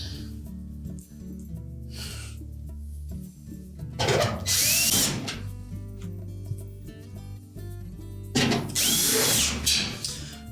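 A cordless power drill drives screws into a range's metal inlet duct in two bursts, each a loud whine ramping up then cutting off, with quieter handling clatter between them; close by.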